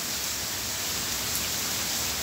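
Steady, dense hiss of heavy rain pouring down in a brief morning downpour in Porto Alegre, constant and unbroken throughout, with no distinct thunder audible.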